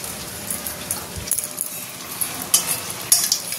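Eggplant pieces frying in hot oil for a fish curry: a steady soft sizzle and hiss, with a few light clinks of a utensil against the pan.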